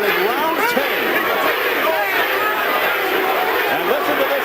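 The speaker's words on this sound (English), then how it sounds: "listen to this crowd turning" A boxing arena crowd during the tenth round of Evander Holyfield against Vaughn Bean roars and chants in a loud, continuous wash of massed voices, with shouting rising and falling throughout.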